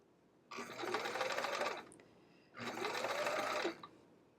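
Sewing machine stitching quilt binding on an hourglass block quilt, two steady whirring bursts of about a second each separated by a brief pause, close and alone.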